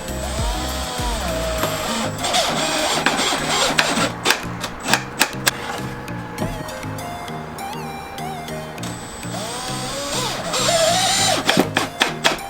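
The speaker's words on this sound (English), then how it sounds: "Make sure to pre-drill the hole so you don't split the end" Cordless drill pre-drilling and driving screws into decking timber for a planter box, with repeated short whirring bursts rising and falling, ratcheting clicks and occasional knocks of wood, close by.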